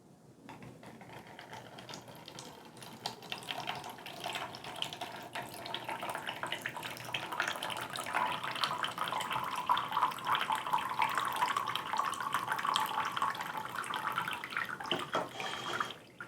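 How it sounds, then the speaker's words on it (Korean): Blue-dyed water poured from a raised cup into a lower cup in a classroom water-cycle demonstration, a steady close trickle and splash that runs continuously for about fifteen seconds with no voices. "파란색 색소물을 하늘 그림의 컵에 부어서 물을 채워 보도록 합니다"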